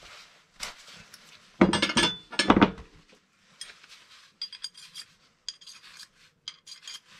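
A file rasps against knife steel to take off burrs around a drilled hole, with two loud grinding strokes up close followed by lighter scraping and small metallic clinks.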